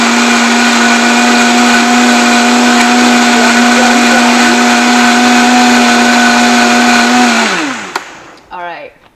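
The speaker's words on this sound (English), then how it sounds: "So I'm going to blend it." A countertop blender whirs loudly and steadily through strawberries and nettle syrup, its motor holding a constant pitch for several seconds before spinning down to a stop, followed by a few faint clatters.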